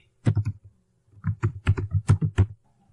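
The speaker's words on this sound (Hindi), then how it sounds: "आपने जो आईडी क्रिएट की है वह आईडी यहाँ पे फिलअप कर दीजिए" A computer keyboard clatters in two quick bursts of close, crisp keystrokes as a login ID is typed into an online form, with no talking.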